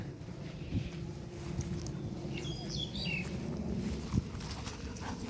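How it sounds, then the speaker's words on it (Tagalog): Scattered bird chirps sound faint and brief over a low rumbling background with shuffling footsteps outdoors, among banana, jackfruit and papaya plantings in a rural tropical spot. "Naririnig nyo ba yung mga ibon?"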